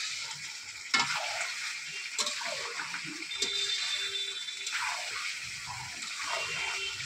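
Fried potatoes and meat sautéed together in a pan, a steady close sizzle with scraping stirs and occasional clicks of a utensil against the pan throughout.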